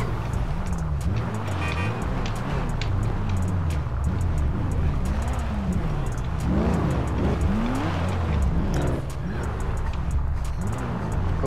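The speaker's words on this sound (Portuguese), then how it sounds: "Acho que tá tendo um encontro de carro aqui na frente, rapaziada" Cars revving and skidding at a street car meet in GTA roleplay, a dense, steady wash of engine roar with rising rev sweeps and tire noise, continuous and loud throughout with no talk.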